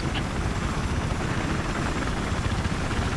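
Helicopter in the video game Battlefield 3: a steady, loud rotor and engine drone with dense low thumping that holds evenly throughout, with no talk over it.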